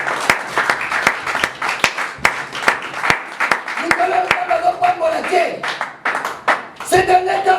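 A church congregation clapping in rhythm at a service, steady loud handclaps with voices calling out and singing over them.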